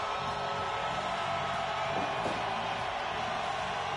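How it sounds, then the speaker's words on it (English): A crowd roars steadily in a wrestling arena during a live Undercard match, a dense continuous wall of cheering and shouting with no break. "Crowd going crazy here live in the Undercard arena"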